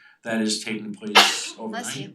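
A single sharp, loud sneeze bursts out briefly between stretches of a person talking nearby.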